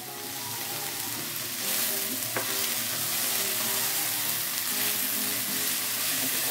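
Sliced chayote is stir-fried in a pan, giving a steady, dense sizzle with light scraping and stirring sounds, growing slightly louder partway through.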